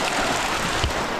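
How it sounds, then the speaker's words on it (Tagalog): Rain pours down outdoors in a dense, loud, even hiss that fills the whole moment without a break or any talking. "medyo maulan ngayon dito sa lugar namin guys"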